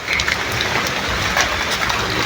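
Steady rain falling, a dense even hiss of drops on surfaces, fairly loud and continuous with no voices.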